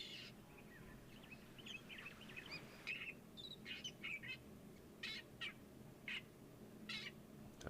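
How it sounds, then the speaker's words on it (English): Several starlings calling some distance behind, a scatter of short bright chirps and whistles that come in brief bursts over steady low outdoor rumble near water. "A couple of starlings calling off behind us."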